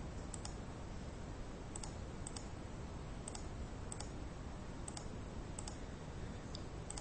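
A computer mouse clicks sharply while product categories are edited in a web CMS, with about ten crisp clicks, often in quick pairs, spaced irregularly over a quiet background hiss.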